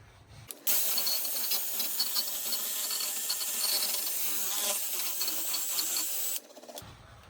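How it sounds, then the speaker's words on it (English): Close, continuous rough scraping of a wire brush scrubbing a Lincoln wheel hub's metal mating surface during a brake job, a harsh rhythmic grinding that starts abruptly and stops after several seconds. "now we're gonna take a wire brush and clean up this mating surface on the hub"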